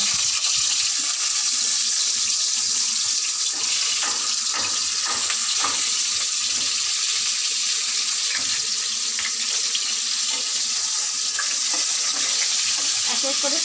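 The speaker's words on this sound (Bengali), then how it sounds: "এই পটলগুলোকে আমি যে আলু ভেজেছিলাম সেই তেলের মধ্যে দিয়ে দেবো।" Whole pointed gourds fry in oil left over from frying potatoes, giving a loud, steady sizzle that runs unbroken throughout.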